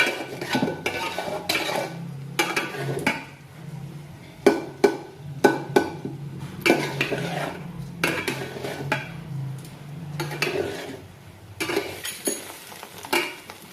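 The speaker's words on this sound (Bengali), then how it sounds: "সব কিছুকে খুব ভালোভাবে কষিয়ে নেবে" A spatula scrapes and knocks against a pan while ingredients with salt are stirred and sautéed for a broken-rice dish, making repeated metallic clinks and scrapes over a faint sizzle.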